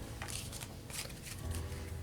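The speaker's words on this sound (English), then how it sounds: "Shuffle all the cards in the discard and put them under the cards in the threat draw pile." Cards for the Forbidden Jungle board game are shuffled by hand, giving quiet bursts of riffling and sliding with soft pauses between them.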